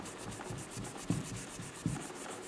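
A knife blade's flat side is rubbed with a light abrasive to clear surface rust speckling, making steady, rhythmic back-and-forth scraping strokes, quiet and close, with no talking.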